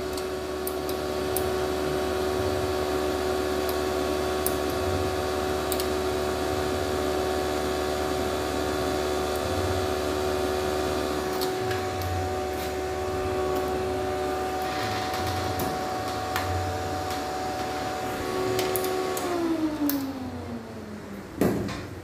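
The cooling fan on a 3,500-watt off-grid solar inverter whirs steadily with a constant tonal hum and faint ticks, then spins down and fades near the end.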